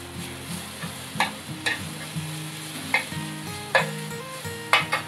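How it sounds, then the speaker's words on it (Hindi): A dal dhokli mixture sizzles steadily in a frying pan while a spoon stirs through it, giving soft scraping strokes and sharp clinks at irregular intervals, close up with no voices. "इसे भी अच्छे से मिक्स कर लूंगी"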